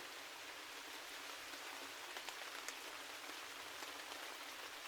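Steady rain falls on a surface, a constant dense hiss with occasional soft drops standing out, no voices.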